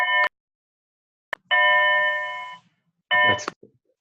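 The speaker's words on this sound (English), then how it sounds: "Those are our school bells that sound like train whistles." School bells that sound like train whistles blare in three loud, steady tonal bursts, the middle one longest, separated by silence.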